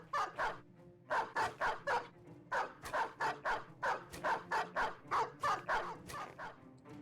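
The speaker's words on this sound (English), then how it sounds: "that is 6 war dogs" War dogs in the video game Battle Brothers bark in quick, repeated bursts, a fairly close pack yapping in an irregular rhythm with brief pauses between volleys.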